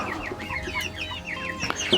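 Chickens crowd close together, clucking and squawking in quick overlapping bursts, with sharper high squawks near the end.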